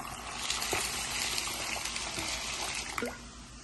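Water pours and trickles steadily into a container of soaking cashews, a soft splashing flow with a few small drips and knocks.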